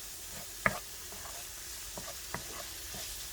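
Flour being stirred into a sizzling pan for Tuscan mac and cheese, with a steady, quiet frying hiss, a sharp utensil knock near the start and a few lighter taps as the spoon works through.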